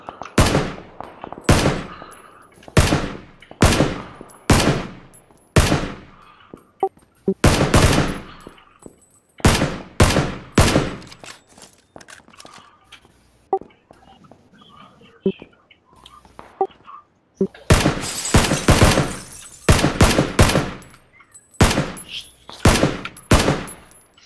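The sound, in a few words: gunfire exchange in video game PUBG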